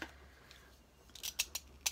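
Quiet room tone, then several crisp scissor snips close by, the last few coming as sharp, separated cuts through magazine staples.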